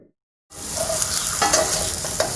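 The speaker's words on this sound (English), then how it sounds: "See, it'll start frying right away." A steady, loud sizzle of a smashed burger patty frying in hot oil, crackling continuously after a brief silence, with a few light scrapes.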